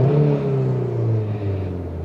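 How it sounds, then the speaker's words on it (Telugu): A 2022 Maruti Suzuki Brezza engine revs under acceleration with a loud, steady, close droning roar and a gently shifting pitch, with no speech. "నేను ఇప్పుడు ఒకసారి యాక్సిలేటర్ ఇస్తాను"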